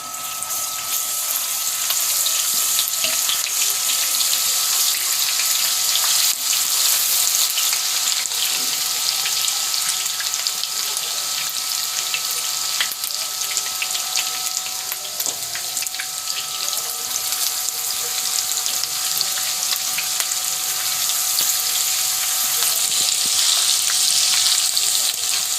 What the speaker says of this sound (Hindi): ऑयल गर्म हो चुका है, मैं लहसुन अदरक का पेस्ट ऐड करूंगी।